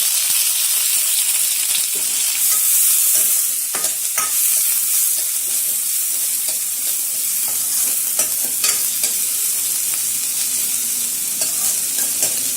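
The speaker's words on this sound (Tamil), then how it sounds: "வெங்காயம் சேர்த்து நல்லா ஒரு கிண்டி விட்டுருங்க." Onions stirred and frying in a pan for an Indian egg gravy, a steady close sizzle with scraping stirs throughout, no voices.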